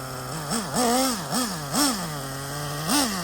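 A rebuilt Traxxas Slayer nitro RC truck engine runs close by with a high, buzzing drone. It rises into several quick revving blips that swing the pitch up and back down.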